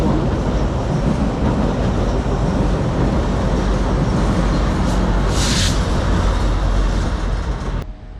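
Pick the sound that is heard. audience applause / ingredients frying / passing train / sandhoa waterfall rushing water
passing train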